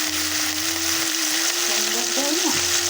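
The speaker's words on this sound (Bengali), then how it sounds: "এবারে সিদ্ধ করা লাউগুলো এর মধ্যে দিয়ে দেবে" Boiled bottle gourd goes into hot oil seasoned with radhuni and chilli, producing a loud, steady sizzle along with a faint steady tone and a short scraping sound near the end.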